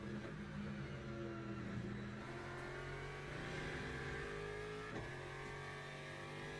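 A racing car engine in the VR sim game Le Mans Ultimate drones continuously at high revs, holding a steady tonal roar with slight pitch shifts throughout.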